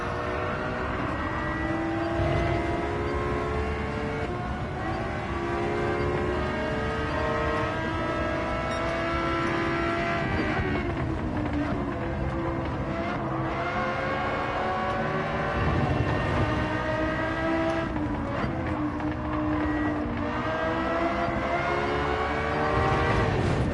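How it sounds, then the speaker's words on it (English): A loud, continuous engine drone with shifting pitch, like a race car accelerating and easing off, from a GT by Citroen in Gran Turismo 7 at Lago Maggiore, steady throughout with no voices. "It's so loud, the car behind."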